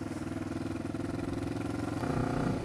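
A motorcycle engine rumbles steadily with a loud, throaty exhaust, growing louder and revving up near the end.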